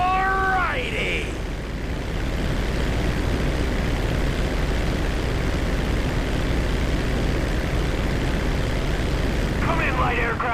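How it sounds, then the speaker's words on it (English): A 1989 crop duster plane in the video game GTA 5 drones steadily at a constant level throughout, with short chirping sounds at the start and the end. "This is Captain T in a 1989 crop duster."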